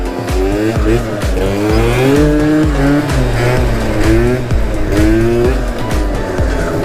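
A 50cc two-stroke scooter engine revs up and down repeatedly during a slow wheelie, a buzzy, rising and falling pattern, loud and close.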